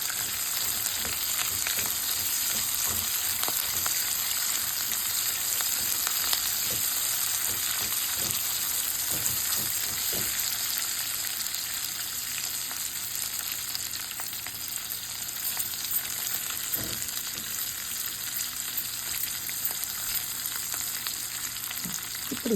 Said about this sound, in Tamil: இப்படி வதக்கணும்.